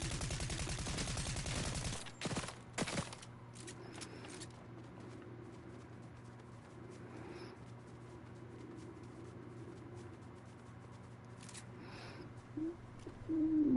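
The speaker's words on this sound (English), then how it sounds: "now I got somebody shooting at me" Burst of rapid gunfire in a Fortnite match, a dense crackling volley in the opening seconds, then a few isolated shots and quieter game ambience.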